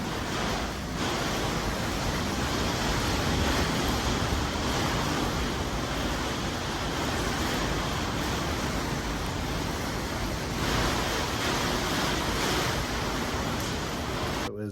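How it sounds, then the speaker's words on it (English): A heavy storm with rain and wind makes a steady, dense roar that stays loud and unbroken for the whole stretch, with no voices. "we had a heck of a storm last night"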